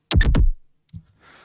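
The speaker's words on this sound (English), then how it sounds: "some of my own design elements that I created in a synthesizer" A short synthesized hit: a bright, descending sweep of layered tones, then a low thump and a faint airy noise tail fading out.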